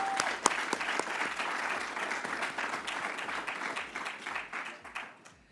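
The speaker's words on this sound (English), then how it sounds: "let's give another round of applause for our graduates" Sustained applause from an audience for graduates at a Metro Operations graduation and promotion ceremony, a dense wash of many hands clapping that holds steady, then tapers off near the end.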